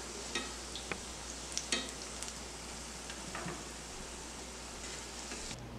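Kofta balls frying in hot oil give off a steady, soft sizzle, punctuated by a few sharp pops and crackles, with no voices present.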